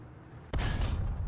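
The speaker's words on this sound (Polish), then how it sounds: "To już coś do nas strzeliło, no ale trafiło w budynek" A tank cannon shot in the War Thunder video game, set around a T-10M heavy tank battle, bursts in suddenly as a single loud, close blast and leaves a dense rumbling roar that carries through to the end, with no talk.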